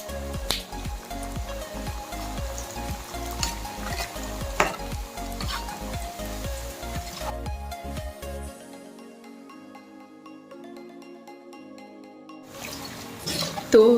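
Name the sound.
mathri (flour snacks) deep-frying in oil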